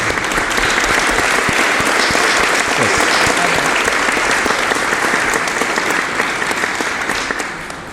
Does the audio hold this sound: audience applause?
yes